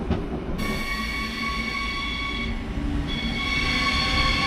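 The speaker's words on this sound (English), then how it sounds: "At last, the consist for my train pulls in." An original ICE1 high-speed train set from the early 1990s pulls into Munich station with a continuous rolling rumble and a steady electric whine, with no voices.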